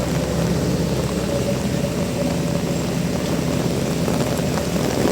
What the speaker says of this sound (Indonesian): Soalnya hujannya udah makin parah ini guys, makin deras guys